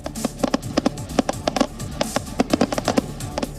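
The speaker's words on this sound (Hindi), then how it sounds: "आतिशबाजी की गई" Fireworks at a Sydney celebration crackle and pop in rapid, irregular bursts, a dense string of sharp reports like firecrackers going off nearby with no talking.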